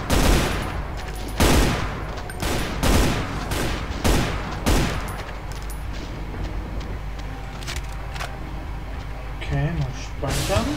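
Rapid gunfire bursts from the Brutal Doom mod Extermination Day, a tactical survival horror shooter: several loud, sharp volleys in the first five seconds, then a denser rumble of game noise with scattered shots and someone talking over it.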